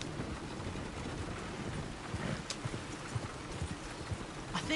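Horse hooves clip-clop steadily along a road in Red Dead Redemption 2, a continuous rhythmic patter set against wind-like ambient noise, with no talk.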